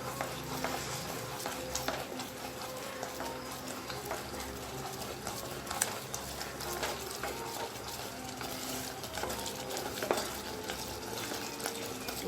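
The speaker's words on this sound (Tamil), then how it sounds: "இது நெய் வந்து வெளியே பிரிஞ்சு வர்ற வரைக்கும் நம்ம கிண்டணும்." Papaya halwa cooking in ghee is stirred steadily in a pan, giving a continuous close scraping and soft sizzle that runs without a break and with no speech.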